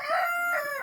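A chicken gives a brief, close, loud crowing call, a single drawn-out cry lasting under a second with no talk around it.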